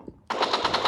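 A sniper rifle fires in a shooting video game: one sharp, loud shot cracks after a brief quiet moment, then rings on with a rapid pulsing tail.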